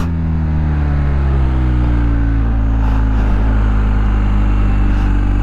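Loud motorcycle engine heard up close, a strong low droning tone with shifting pitch as it moves through downshifts, steady and uninterrupted with no talking.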